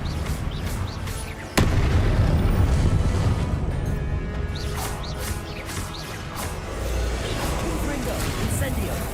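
Confringo and Incendio spells go off in Hogwarts Legacy: a sharp, loud blast lands early, followed by a run of rumbling bursts and crackles that continues throughout.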